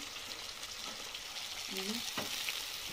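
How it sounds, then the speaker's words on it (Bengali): A whole monopia fish fries in hot oil, giving a steady, close sizzle that continues throughout, with a few light clinks and stirring sounds. "মাছটা ভাজা হয়ে গেল"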